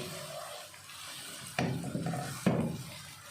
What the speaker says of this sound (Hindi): इसके अंदर पानी डालूँगी